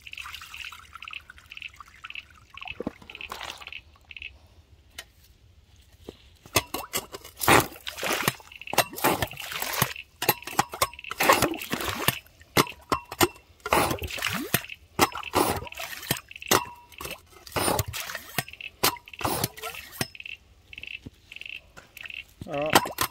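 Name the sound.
water tipped in and sucked up with a bait pump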